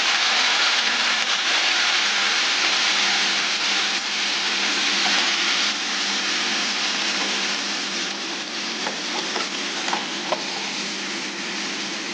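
Spice paste ground on a grinding stone, with cumin powder and a splash of water, hisses and sizzles steadily in a frying pan while mixed vegetables and pea-lentil fritters cook, a constant rain-like crackle with faint clinks.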